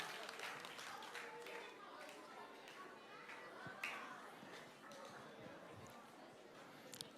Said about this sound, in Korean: 우리 박수하고 자리에 앉겠습니다